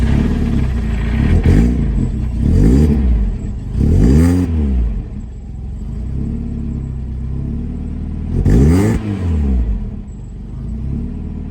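A car engine revs repeatedly through its exhaust, with several rising and falling throttle blips between a rumbling idle, loud and close, with no talking.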